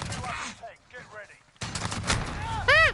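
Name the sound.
sniper rifle gunfire in Call of Duty: Modern Warfare video game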